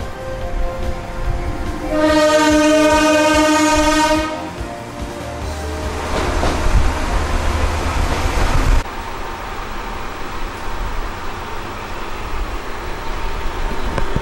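A train in Japan's Hokkaido passes with a long, loud sustained horn blast, followed by the heavy rumble and rattle of railcars rolling by nearby, then fading to steady background noise.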